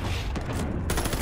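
Dense gunfire rattles through a video game shootout, a loud continuous barrage of rapid shots close by, with a sharper burst near the end and hardly any talk.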